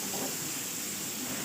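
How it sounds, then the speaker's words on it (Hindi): Beef chapli kebabs sizzling in a pan after a drizzle of oil, giving a steady, even frying hiss with no pauses. "अब हल्का सा ऑयल इस पर ड्रिजल कर देंगे, ताकि दूसरी साइड से भी हमारे कबाब पक जाए।"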